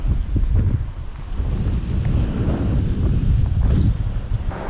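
Strong wind buffets the microphone on a pier at Portsmouth on a cold, rough day, a continuous loud low roar with gusts and the wash of choppy water beneath, and no voices.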